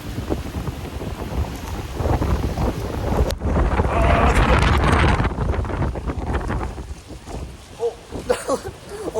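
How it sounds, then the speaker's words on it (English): Strong storm gusts batter a microphone outdoors in Da Nang as rain starts, loud rumbling buffeting that swells and fades in waves, with brief voices mixed in. "now I got blown away by the wind"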